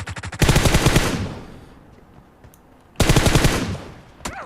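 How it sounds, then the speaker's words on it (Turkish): Two long bursts of rapid automatic gunfire from PUBG Mobile, each a fast rattling volley that rings out and slowly fades, separated by a quiet gap, with a brief sharp sound near the end. "Oo uzaktan sıkıyor."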